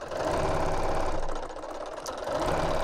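A sewing machine runs steadily while stitching a bag lining, a rapid rhythmic mechanical whir and clatter that stays close and continuous with a slight dip in speed midway, no voices over it.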